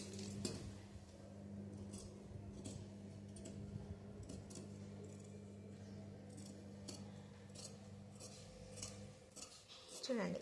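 Scissors cutting blouse fabric, a series of crisp snips and clicks spread irregularly over a low steady hum, fairly faint and close, with no voices.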